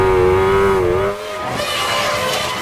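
Mika Hakkinen's 2001 Formula 1 car with a faulty clutch, a loud, close, high engine whine that drops in pitch as the car slows, followed by rougher, fading engine noise.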